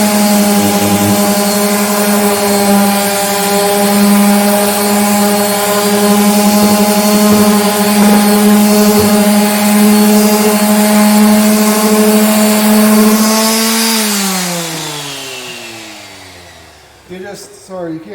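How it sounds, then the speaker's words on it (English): Orbital sander running steadily over a wooden cutting board, a loud continuous motor whine that holds for about thirteen seconds, then winds down as the sander is switched off. "you just run the sander over in no particular order"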